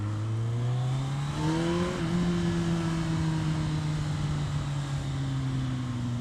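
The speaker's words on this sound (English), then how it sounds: "an Akrapovic exhaust system, which sounds brilliant" A 2014 Kawasaki ZZR1400 Performance Edition with an Akrapovic exhaust revs close by. The engine note climbs in pitch, then holds as a steady, even drone with no talk over it.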